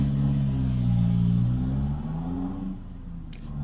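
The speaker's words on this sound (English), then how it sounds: "Someone's revving their car outside the front of my house." A car engine revving outside a house, a loud low rumble that swells and eases as the throttle rises and falls, heard alone without talk.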